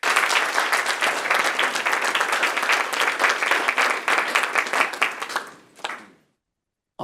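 Audience applause closing a pitch at a health-tech startup showcase, dense loud clapping for about five seconds that tapers into a few last claps and then silence.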